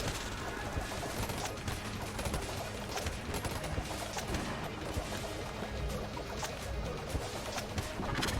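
The Sling weapon firing in Enter the Gungeon amid a dense, rapid barrage of gunfire and impact crackles, forming a loud, continuous clatter of game combat sounds with no clear pauses.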